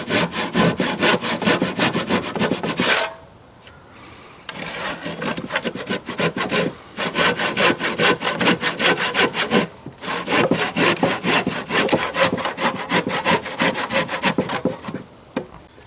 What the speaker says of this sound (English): you want to cut the corner here out either but with a handsaw